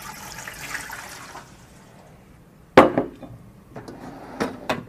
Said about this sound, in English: Put around 400 ml of water inside the pan.